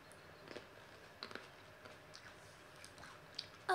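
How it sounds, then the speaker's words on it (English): Faint, soft crunching and chewing of grapes at close range, intermittent and quiet against a hushed background. "Do you guys hear the crunching of our grapes?"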